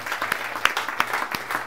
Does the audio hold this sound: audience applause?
yes